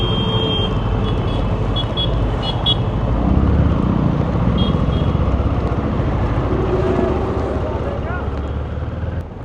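Busy Delhi road traffic in the rain, with a continuous wash of engines, tyre hiss and wind rumble, and faint horn toots early on, heard from a Royal Enfield Himalayan 450 motorcycle.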